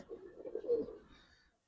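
A Giribaz pigeon gives a single soft, low coo lasting about a second and a half, close and quiet.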